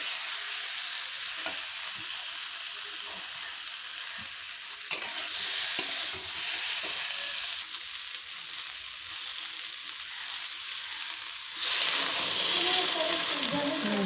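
Spiced pabda fish curry sizzles and fries steadily in a pan, then water is poured in near the end, bringing a louder, brighter hissing rush over the bubbling.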